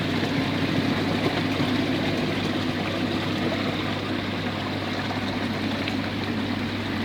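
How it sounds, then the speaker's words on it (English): Water pouring into a garden pond filter after the bottom drain is reopened, a steady broadband rush with a low constant hum from pump or engine underneath, continuous and close throughout. "let the water flow in."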